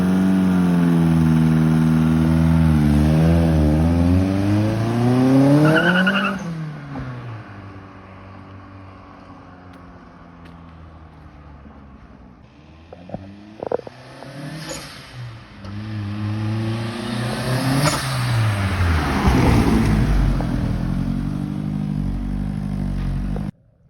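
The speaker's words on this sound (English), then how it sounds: "Take it for a quick test drive and see how it goes." Montego T16 Turbo car on a test drive, engine loud and close, rising through the gears with clear revving sweeps, easing off, then pulling hard again.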